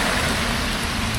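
Raindrops pattering steadily on a camera lens in Singapore, a dense close hiss of rain with no pauses over a short stretch.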